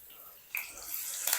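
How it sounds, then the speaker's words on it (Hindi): Cumin seeds and green chillies crackling in hot oil for a chana dal palak tadka, a soft hissing sizzle that swells after about half a second and grows brighter toward the end, close and fairly quiet. "और कुछ सेकंड के लिए हम इनको क्रैकल करेंगे ज़ीरे को"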